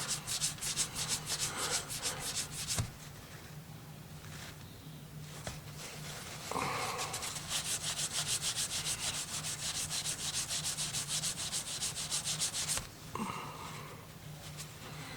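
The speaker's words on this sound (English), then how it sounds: "So you just keep rubbing that and buffing it off until the towel comes away clean." A towel rubs and buffs the body of an Ernie Ball Music Man guitar during cleaning, giving steady close-up swishing strokes that continue for the whole stretch, broken by a few brief pauses.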